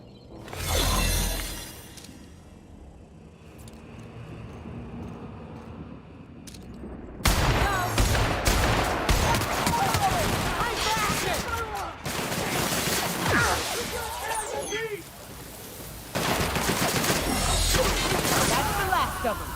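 Gunfire in The Outer Worlds, played on Hard difficulty: long stretches of dense, loud shooting with cracks and impacts, broken by brief lulls, while voices talk intermittently.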